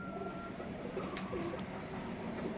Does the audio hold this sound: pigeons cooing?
yes